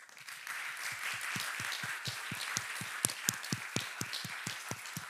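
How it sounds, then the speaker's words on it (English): A lecture audience gives a round of applause, a steady stream of many hands clapping at moderate volume with a few sharper claps near the end. "Let's do one more round of applause."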